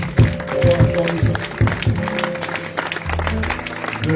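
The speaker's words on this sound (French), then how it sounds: "On acclame très fort." A church congregation in Paris claps and cheers at a pastor's consecration service, with irregular claps and voices under sustained low organ-like musical tones.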